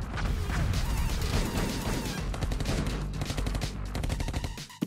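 Rapid bursts of gunfire from a cartoon jailbreak scene, dense and loud throughout with a crashing, chaotic texture and no clear gaps between shots.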